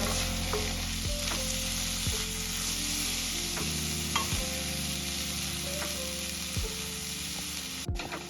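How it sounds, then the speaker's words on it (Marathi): Prawns fry in oil for a dry zinga masala, a constant close sizzle broken by a few sharp spatula scrapes and clinks, with no talking. "हे बघा अशा प्रकारे झिंगे मी ऑइल मध्ये फ्राय करून घेतले"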